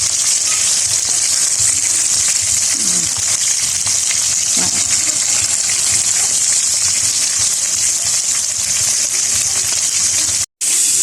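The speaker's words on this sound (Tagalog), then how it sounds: "Ato nang start og prito." Bilong-bilong fish fry in hot oil, giving a loud, dense, continuous sizzle and hiss close to the pan throughout, with a brief dropout near the end.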